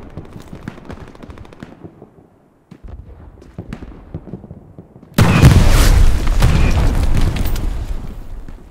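Combat in Hell Let Loose: scattered gunshots, then a loud booming tank cannon blast sets off a sustained roar of explosion and fire, with nobody talking.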